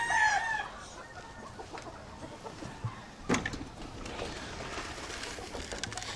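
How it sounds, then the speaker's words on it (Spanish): A rooster crows clearly among hens on a ranch in the late afternoon, a sharp crow standing out midway over soft background clucking and bird calls, fairly distant and quiet. "Pero mira, acá anda el gallo,"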